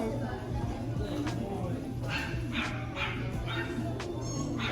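A puppy gives several brief high yips and whimpers that come and go over steady background chatter and room noise, with people talking nearby.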